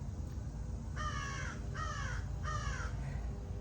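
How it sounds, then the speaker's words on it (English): A crow cawing three times in slow succession, harsh nasal calls at a moderate distance over a steady low background hum of rain or ambience, with no talking. "This crow is laughing at me."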